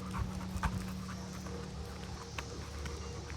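A dog panting steadily nearby during an outdoor training session for follow, stay and come, quick rhythmic breaths with a faint whimper or two and soft background noise.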